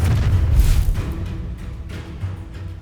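Incendio fire spell cast in the Hogwarts Legacy video game, a loud low whooshing burst of flame that swells early, then fades into a rumbling tail over the rest of the moment.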